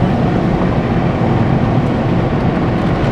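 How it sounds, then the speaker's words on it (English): A pickup truck engine running at high revs under exhaust braking while descending a hill on the Dalton Highway, a loud continuous droning hum with road noise and no talk. "those exhaust brakes are just a humming"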